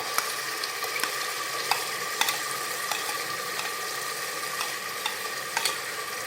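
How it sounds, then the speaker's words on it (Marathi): Ground masala paste sautés in hot oil with cumin and bay leaves inside a pressure cooker, giving a dense steady sizzle broken by light regular ticks and scrapes of a spoon stirring it. "हे वाटण व्यवस्थित परतून घेऊयात"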